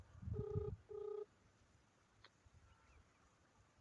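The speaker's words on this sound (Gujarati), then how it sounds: "કોલ લાગી ગયો છે." A phone call's ringback tone sounds as two short, clean electronic rings in quick succession, followed by near silence and a faint click.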